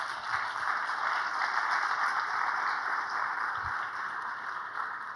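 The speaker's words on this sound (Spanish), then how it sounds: "Dales un aplauso." A church congregation applauds newly baptized members, a steady, even wash of clapping that carries on for several seconds with no talking.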